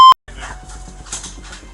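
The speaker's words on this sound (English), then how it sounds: "I'm pretty sure that was a dog in there. It's a dog." A dog whimpers inside a house, soft, faint whines and pants following a sharp electronic beep, close by but quiet.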